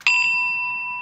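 A notification bell sound effect rings once as a bright electronic ding, loud and close, then its pure tone hangs and slowly fades with no voices.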